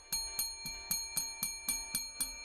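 A small bell rings in quick, evenly spaced strikes, about nine in a row, each with a bright metallic ring that fades slightly, quiet and close.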